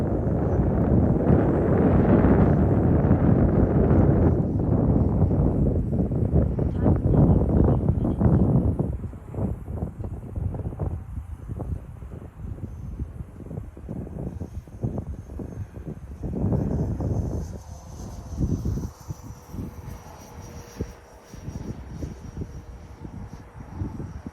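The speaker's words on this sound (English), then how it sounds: "You can hear the wind." Strong wind buffets the microphone at a model airplane flying field, loud rumbling gusts at first that ease into intermittent lighter gusting.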